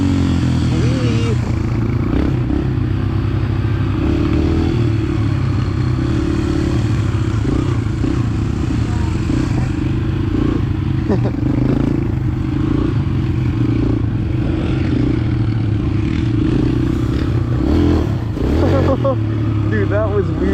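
Dirt bikes ride through a gravel pit, with engines droning and revving close by over the clatter and scrape of loose stones, while riders shout and talk throughout.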